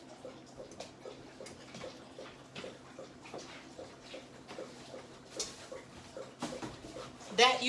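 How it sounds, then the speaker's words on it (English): A dog laps up water in a kitchen after a walk, a quick regular run of soft wet licks in the background, faint and steady with a louder clatter at the end. "That you hear lapping up water back there, that's the dog."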